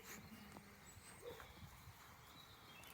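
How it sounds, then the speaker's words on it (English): Dogs bark far off, faint and scattered over quiet outdoor background hiss, with a few brief yips rising above the low murmur. "Those barks sound reasonably friendly, but they're miles away from us"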